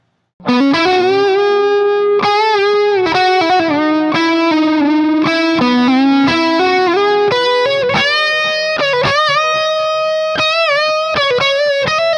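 A warm, mid-heavy electric guitar through an Orange Jim Root #4 Terror head, highs rolled off, plays a flowing fusion phrase, each note trailing soft analog delay repeats, steady and upfront with no voices.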